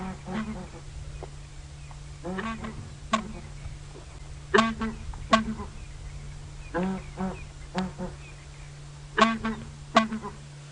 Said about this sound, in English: Now you know what a southern ground hornbill sounds like.